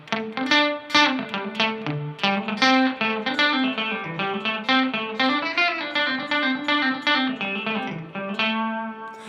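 Electric guitar played through a Walrus Fundamental reverb and delay pedal set to short slapback delay, bright picked notes and chords each followed by a quick repeat, steady and close with no talking.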